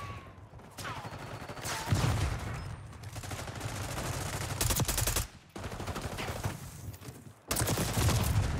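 Rapid AK-47 automatic fire in Call of Duty: Black Ops 6 multiplayer, loud dense bursts rattling almost continuously with brief pauses around the middle and near the end, no talking.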